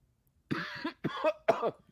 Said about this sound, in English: My daily cough.